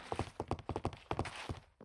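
Horse hooves clip-clopping in Minecraft VR, a steady run of rapid, moderately close thuds arriving in quick pairs, alone with no talk.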